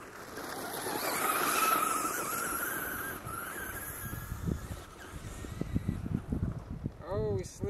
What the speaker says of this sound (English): Oh, we slid and spun out.